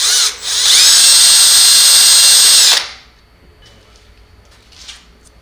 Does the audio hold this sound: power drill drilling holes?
yes